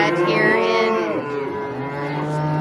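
Cattle being worked through a chute during spring tagging and vaccination, with a loud, close, drawn-out moo from a cow that slides in pitch and fades into a lower lowing.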